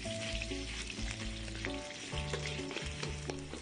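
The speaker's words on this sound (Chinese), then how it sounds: "起油锅，肉末下锅翻炒。" Minced pork stir-fried in hot oil in a wok, a steady close sizzle running throughout beneath a backing of tonal music.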